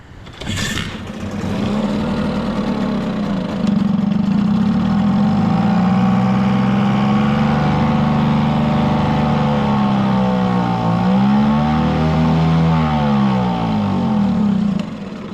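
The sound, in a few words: Mercury outboard boat motor running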